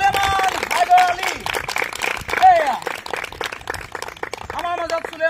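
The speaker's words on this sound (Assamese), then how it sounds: "হাত তালি দিয়ক" An audience claps in a crowd welcoming a guest to the stage at an Assamese gathering. The applause runs steadily under a loud voice talking over a microphone throughout.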